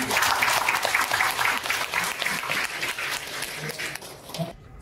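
An audience at a history lecture in Incheon breaks into loud, dense applause that holds steady for several seconds, then stops abruptly near the end.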